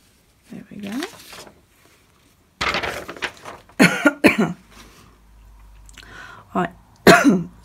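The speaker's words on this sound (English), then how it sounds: "Sorry about the cough." An adult coughs and clears their throat in several bursts, with thuds and handling noises between them, indoors at a paper-crafting table.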